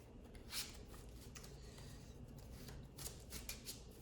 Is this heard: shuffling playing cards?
yes